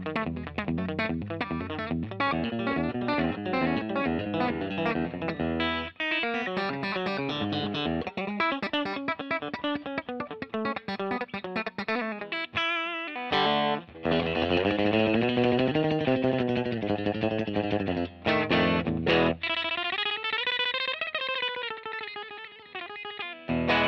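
Fender Custom Shop 1959 Stratocaster Relic electric guitar on its bridge pickup, played through an amp with some grit, a long run of sustained notes and chords ringing out, with brief gaps between phrases.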